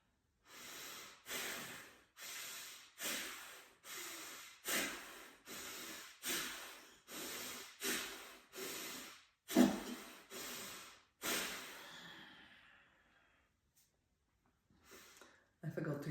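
Rapid, forceful chest Bhastrika yoga breaths, about ten sharp rhythmic puffs close to the microphone, followed by a pause and a quieter breath.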